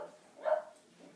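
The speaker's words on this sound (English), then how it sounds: "That's my dog Charlie barking once again during my videos" A single short dog bark rings out indoors, fairly faint and isolated against a quiet background.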